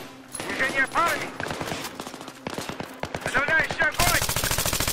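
Gunfire in the Xbox 360 game Battlefield 3: rapid machine-gun bursts and repeated shots crack loudly and densely throughout, with fire continuing to the end.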